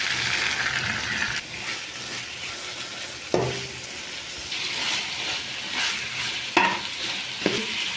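Marinated chicken fries with onions and curry leaves for biryani, giving a loud continuous sizzle broken by several sharp scrapes and clanks as it is stirred.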